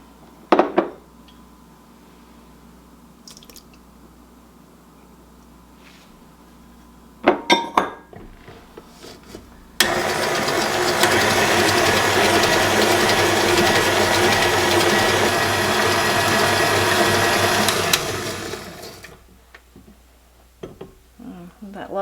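An electric mixer creams sugar and eggs for an Appalachian church cake, a loud steady whir lasting about eight seconds. Before it, dishes and utensils clink and clatter, and after it fades there are a few soft knocks.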